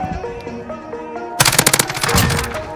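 Call of Duty gunfire: after a stretch of tonal in-game music, a loud, close burst of rapid automatic fire hammers out in quick, evenly spaced shots, followed by a busier, noisy clatter of further shooting.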